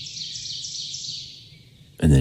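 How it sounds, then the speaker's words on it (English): Birdsong twitters steadily in the background, a bright high chirping layered over low murmuring, until a loud thump near the end. "listen to the birds"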